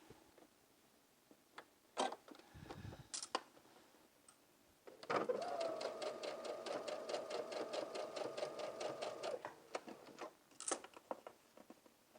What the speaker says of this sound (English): let's go to the sewing machine